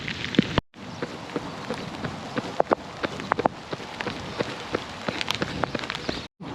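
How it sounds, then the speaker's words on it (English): Rain falling during a bike ride, a dense steady patter with scattered sharper drops hitting nearby surfaces, continuous and fairly close, broken by a couple of brief dropouts, with no talk. "As you can see, it's proper raining now."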